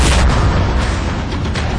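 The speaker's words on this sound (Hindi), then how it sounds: "एक और धमाका लगातार" Heavy shelling during a ceasefire violation at the Pakistan border produces a loud, rumbling explosion with a sustained roar and debris-like crackle that fills the whole stretch without any talk.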